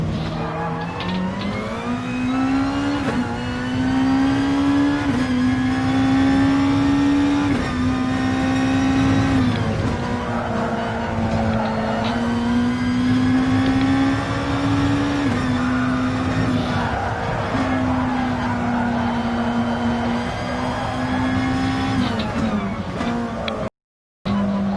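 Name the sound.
Nissan GT-R race car engine in Gran Turismo video game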